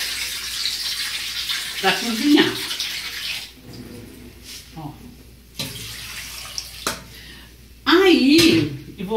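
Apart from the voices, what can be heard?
water being poured for cooking pumpkin soup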